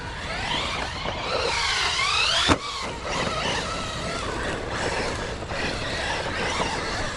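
Loud, continuous electric motor whine from a Redcat Racing Valkyrie 4S RC monster truck, rising and falling in pitch, with one sharp crack partway through and steady rough background noise.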